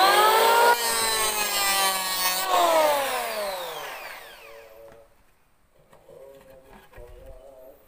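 A Ryu electric hand planer cuts along a wooden board with a loud, high motor whine that drops in pitch under load, then winds down to a fading hum and a quieter idle.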